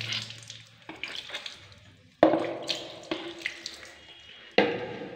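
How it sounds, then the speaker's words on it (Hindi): Tap water splashes and gushes over a freshly cleaned bathroom faucet, rinsing it off in several close, loud bursts with brief pauses as the flow hits metal and the sink. "इसको आप बिल्कुल ही पानी से इस तरीके से धो दीजिए"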